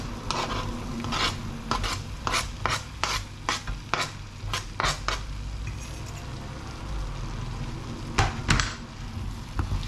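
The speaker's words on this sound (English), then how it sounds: "Give that a good stir around" Cabbage being stirred in a pan for a sweet potato and cabbage vegan roulade, with repeated scraping strokes of a utensil against the pan over a steady sizzle, no voices.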